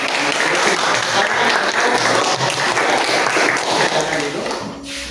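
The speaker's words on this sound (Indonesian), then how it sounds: "Sekali lagi tepuk tangan untuk kita semua" Students in a classroom applaud after a group presentation, giving dense, loud, continuous clapping close by that fades near the end, with voices mixed into it.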